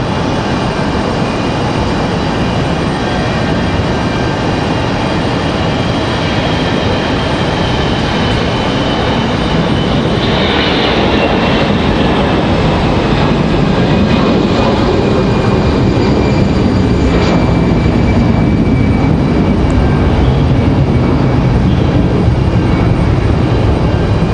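Jet airliner, a WestJet plane at Raleigh-Durham International Airport, giving a loud, steady broadband roar that holds throughout and swells slightly in the middle, with no talk over it.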